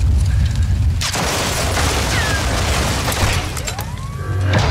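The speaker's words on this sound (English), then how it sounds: "Who's shooting me?" Gunfire in Call of Duty Modern Warfare 2 DMZ, loud booming shots and rumbling blasts filling the clip with a dense, continuous battle din.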